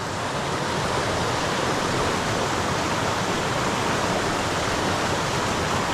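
Steady rushing water of a creek flowing under a tree canopy in Southern California, a continuous broadband wash close by with no pauses, alone with no voices.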